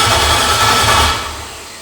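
LS engine fitted with EFI cranking over, a loud rhythmic low churn of the starter turning it that fades toward the end.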